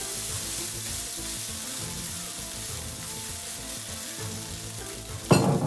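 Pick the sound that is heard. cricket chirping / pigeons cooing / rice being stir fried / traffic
rice being stir fried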